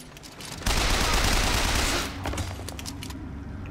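Sustained automatic gunfire from the Bioshock Infinite video game, a dense, loud burst of rapid shots that swells after a moment and then eases to a lower, continuing barrage.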